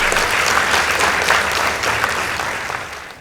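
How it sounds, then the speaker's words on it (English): Audience at a high school debate competition applauds, a dense, steady wash of clapping from a large crowd that stays loud throughout and eases slightly at the end. "Let's give them a round of applause."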